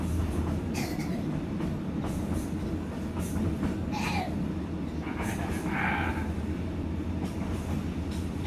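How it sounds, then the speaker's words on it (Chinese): A metre-gauge passenger train on the Kunming–Hekou railway in Yunnan rumbles steadily from inside the carriage as it departs Kaiyuan, with a constant low roar and faint squeals and clanks over the top. "我们的列车即将出发"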